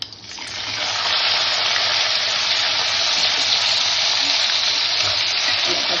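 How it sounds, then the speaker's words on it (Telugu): Green chillies frying in hot oil with mustard seeds, fenugreek and asafoetida, a loud steady sizzle that swells in the first second and then holds evenly. "పచ్చిమిరపకాయలు ఇలాగ వేయించుకోవాలి."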